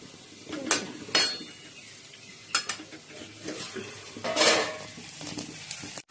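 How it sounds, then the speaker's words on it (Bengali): Masala of spices and chili powder is sautéed in a pan, a soft frying hiss broken by several scraping stirs and spatula knocks against the metal, some louder bursts spaced unevenly. "ভালো করে কষি নিচ্ছি"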